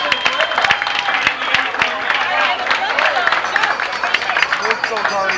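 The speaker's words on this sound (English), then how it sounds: "Another round of applause for our second place winners." A family gathering's audience gives a round of applause for second-place prize winners, a continuous, lively clatter of many hands with scattered voices and crowd murmur mixed in.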